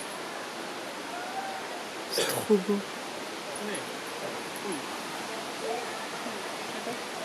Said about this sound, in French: je vais juste faire une petite cascade, elle est par là-bas